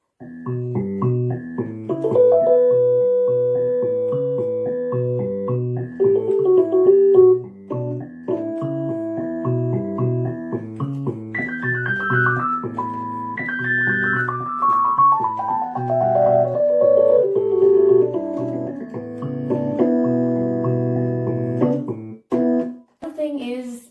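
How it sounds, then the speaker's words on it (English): Mellow Rhodes-style electric piano chords from a MUSTAR 88-key digital piano ring out with a warm, bell-like tone, playing a steady sequence of sustained notes with no talking. "now this is actually what they call a Rhodes."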